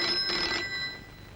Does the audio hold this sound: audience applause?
no